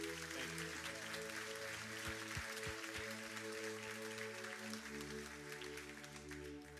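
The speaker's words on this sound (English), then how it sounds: "Let's give Josie one more round of applause" An audience in a church claps in steady, sustained applause during a baptism celebration, heard at a distance over a held musical tone.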